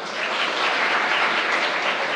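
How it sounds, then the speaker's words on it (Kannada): Audience applause fills a motivational lecture hall during a talk by a KAS officer, dense steady clapping running evenly from start to finish with no voices over it. "ನೀವು ಹಿಂಗೆ ಚಪ್ಪಾಳೆ ಹೊಡಿರಿ"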